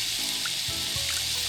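Lemon juice pours in a thin steady trickle at a campsite while cooking, a soft liquid splashing under a broad hiss, close and brief.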